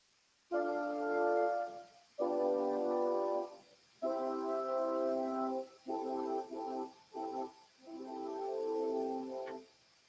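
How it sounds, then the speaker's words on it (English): Jazz 2-5-1 chord progression voiced by a brass ensemble in drum corps style, closing on a 6 chord; sustained loud chords in several phrases with short breaks between them, alone without talk. "Now, if I end on that 6, it'll sound like this."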